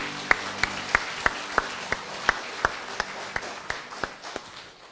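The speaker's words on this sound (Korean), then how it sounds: "먼저 하나님께 영광의 박수 올리겠습니다." A church congregation claps together in a steady, even beat of about fourteen crisp claps in unison, with a faint low hum underneath.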